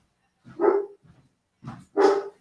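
A dog barks indoors, two separate bursts of a couple of woofs each, fairly close and alone.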